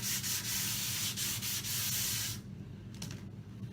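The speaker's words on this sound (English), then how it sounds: "just simply roughen that top surface with 150 grit sandpaper" 150 grit sandpaper roughens the top of a Mirostone surface in steady, close, scratchy rubbing strokes that stop partway, followed by a few lighter scuffs.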